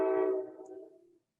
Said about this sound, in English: Yeah, that's what I heard a train whistle.